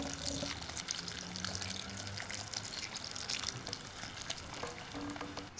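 Hot milk and cream pour into a pan for a Tuscan dessert with raisins, a soft liquid splash and faint sizzle that continues quietly throughout, with a brief clatter at the end.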